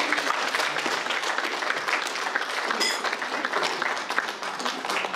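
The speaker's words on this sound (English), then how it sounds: "let's have a nice round of applause for Sherry and Kristen." Wedding guests applaud in a steady, dense burst of clapping that carries on for the whole stretch, fairly loud and close.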